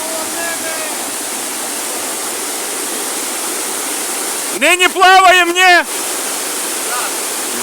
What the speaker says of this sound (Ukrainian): ще одні гірські потоки, але вже Івано-Франківської області.